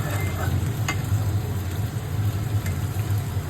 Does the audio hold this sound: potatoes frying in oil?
yes